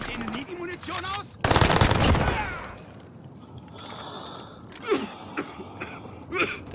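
Automatic gunfire from Call of Duty Warzone on the Fortune's Keep map: a dense, loud burst of rapid shots lasting about a second and a half, then quieter game ambience with faint mechanical clicks and distant shots.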